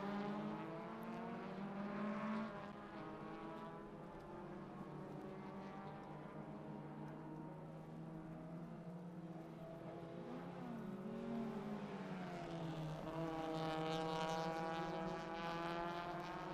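Race cars at Sonoma Raceway in the Hoosier Tire 2.5 Challenge, engines droning steadily with rising and falling pitch as several cars pass, loud and continuous with no talk.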